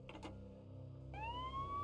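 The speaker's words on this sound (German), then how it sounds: "Die Sirenen heulten in der atonalen Harmonie eines Chors manisch depressiver" Police sirens wail in the Max Payne video game, rising tones sweeping upward over a low droning backdrop, moderately loud and without speech.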